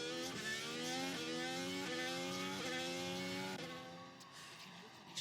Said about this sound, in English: Just enjoy hearing the car as he comes to turn 9 and 10.